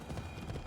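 Rapid clip-clop of horse hooves in Assassin's Creed Odyssey, a short quick run of soft thuds heard quietly under low background sound.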